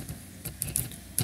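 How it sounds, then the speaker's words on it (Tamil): A question is typed on a computer keyboard, a short run of light key clicks, close and fairly quiet, with a few sharper taps near the end. "நான் வந்து ஒரு கொஸ்டின் டைப் பண்ணுறேன்"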